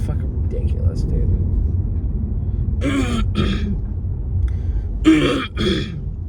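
A man clears his throat twice in short rough bursts and once more with a double rasp, close to the mic, over a constant low rumble of background noise.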